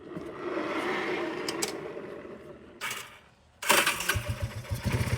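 An idling engine on a Yamaha Breeze ATV with a starter issue runs steadily, fades, then cuts out. A short whirring crank follows, then sputtering chugs start back up close by.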